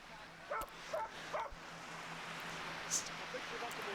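A small dachshund gives a few short, high yips and whimpers spaced about half a second apart, fairly close, then quieter fussing over a faint steady hum.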